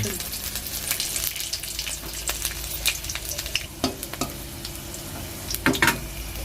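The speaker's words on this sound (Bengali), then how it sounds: "এবার আমি একটু ফোড়ন দেব নতুন ফোড়ন লঙ্কা" Chilli and garlic tempering sizzles in hot oil in a pan, a continuous close frying hiss broken by several sharp utensil clinks and scrapes.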